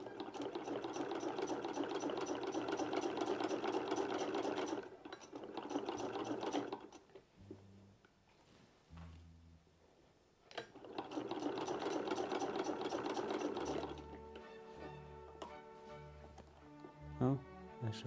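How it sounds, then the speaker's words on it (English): Sewing machine stitching fabric for an Edwardian dressing gown, running in two steady mechanical bursts separated by a pause of quieter clicks and handling, then slower rhythmic thumps and rattles at the end. "have some nice sewing machine sound on the recording"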